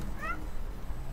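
A cat in the video game Stray gives one short rising meow over a constant low ambient hum.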